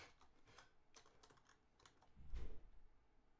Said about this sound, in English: I started typing in